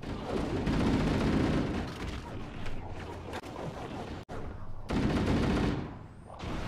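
Dense, loud gunfire and shotgun blasts fill the battle in the shooter Halo, rattling almost continuously with brief pauses, while players talk over the noise.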